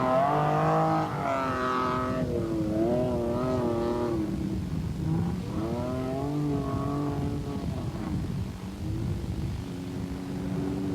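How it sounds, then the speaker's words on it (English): A Citroën ZX rally raid car labours through Tunisian sand dunes, its engine droning and rising and falling in pitch through repeated revving surges, loud and close, continuous throughout. "Listen to the engine working as they try to get through these dunes."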